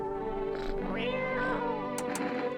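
Pet cat in the horror game No I'm Not A Human gives a clear, drawn-out meow with rising and falling pitch, close and fairly loud, over a steady tonal game backdrop with a couple of brief bright clicks near the end.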